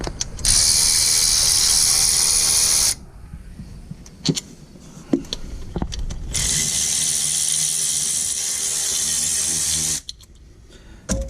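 A ratchet fitted with an extension and 12mm socket works engine bolts on a 2008 Subaru Impreza during engine removal, making two long, close bursts of rapid, loud mechanical ratcheting separated by a quieter pause with scattered knocks.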